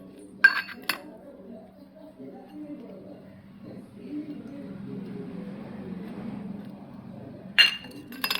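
Small cups clink and rattle against each other and a tray as they are handled and greased with ghee for a wheat-flour and coconut-milk dish, with sharp clinks near the start and end and soft handling between them, near and fairly quiet.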